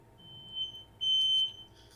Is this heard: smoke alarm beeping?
yes